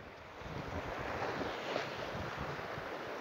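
Ocean waves wash steadily onto the shore at a fishing spot, a broad continuous roar of surf mixed with wind buffeting the microphone, with no voices.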